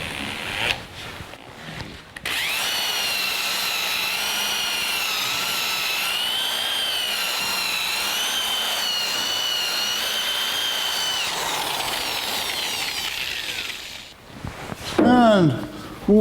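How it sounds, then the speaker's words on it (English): A power polisher fitted with a fresh pad works polish into a 1982 Jeep CJ7 body tub, giving a steady high motor whine that runs for about twelve seconds, then stops abruptly, with a few brief clunks afterwards. "With a new pad, we'll put some polish on here."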